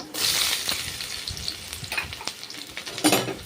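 Chopped onions for veg fried rice sauté in a hot pan, a crisp sizzle broken by repeated scraping stirs and clacks of the utensil, a louder spatter near the end, with no speech.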